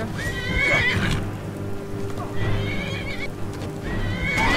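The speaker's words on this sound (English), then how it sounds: "Oh no, the horse wants to kill me!" A horse in the Skyrim video game neighs and whinnies repeatedly, with the cries rising over close clip-clop hoofbeats and a rumbling outdoor game backdrop that sounds like rain.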